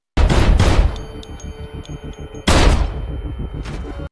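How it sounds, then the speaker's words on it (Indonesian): Two heavy, sharp blasts about two seconds apart, each followed by a brief rumbling decay and faint ringing, loud and close. "sebuah granat meledak"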